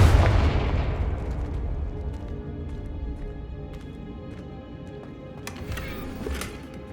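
A Confringo fire spell bursting in Hogwarts Legacy, with a heavy booming blast at the start that rolls off into a long fading rumble, followed by light clicks and faint game ambience.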